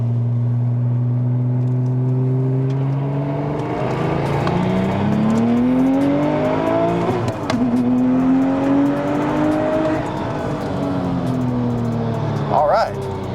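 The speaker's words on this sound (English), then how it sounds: "Give it a little pull. We're just in second gear here." Porsche 911 Turbo 997.1 with upgraded 68mm turbos pulling hard in second gear, its engine note rising steadily and loud from inside the car, with someone talking over it.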